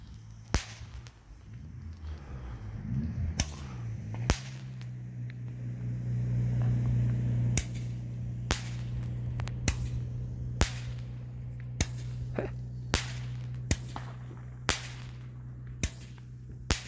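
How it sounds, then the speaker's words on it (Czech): Fireworks bursting over the Krkonoše mountains at New Year, distant sharp cracks and pops scattered irregularly across the stretch, about a dozen, over a low steady hum. "v Krkonoších mezi horama nějaký ohňostroj"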